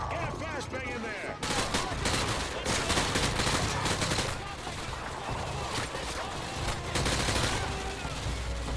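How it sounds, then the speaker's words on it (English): Heavy gunfire in Call of Duty: Modern Warfare 2 during a school assault, with dense bursts of automatic shots and blasts rattling continuously, loud and close, under shouted game voices. "We're taking heavy fire in the school!"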